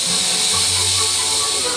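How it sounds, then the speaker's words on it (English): Steam engines at a heritage railway let off a loud, continuous hiss of steam, close and steady throughout with a low rumble underneath. "Tonight, we are going to position all of our 6 working steam engines"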